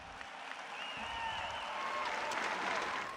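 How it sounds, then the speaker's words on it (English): A graduation audience gives roaring applause: a dense, steady wash of clapping that holds throughout, with thin whistle-like cheers rising above it. "hearing the roaring applause from her peers"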